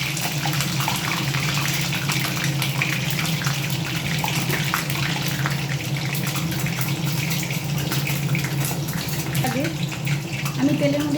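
Hot oil spitting in a frying pan on a gas stove while cooking, a steady close hiss and sizzle with scattered crackles throughout, without talk.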